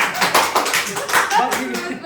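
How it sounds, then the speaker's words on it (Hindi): Scattered audience clapping in a small room during a stand-up style talk, a few sparse claps that never build, with a voice talking over them throughout. "तालियां"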